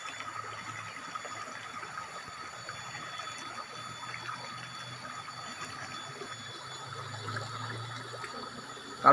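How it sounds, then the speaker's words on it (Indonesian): Water from a small stream flows steadily beneath a natural tree bridge linking two hills, a continuous soft rushing with no voices. "Tuh suara airnya pun begitu indah ya, kalau bagi para pecinta alam nih suara air kayak gini."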